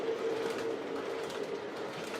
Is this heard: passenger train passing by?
yes